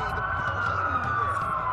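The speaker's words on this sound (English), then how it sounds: "That's a lot of sirens for a blackout." Police sirens wailing in the distance in the video game Watch Dogs, overlapping steady tones drifting slightly in pitch over a low background hum.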